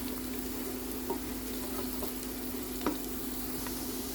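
Garlic frying in a pot for a chicken macaroni soup, a steady hiss and crackle with a couple of faint stirring knocks, close and alone.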